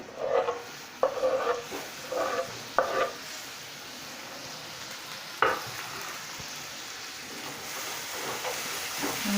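A tomato is stirred into a pan of green chickpea curry with onion and ginger-garlic, giving a low sizzle under a few distinct spatula scrapes and knocks early on, then a quieter steady frying hiss.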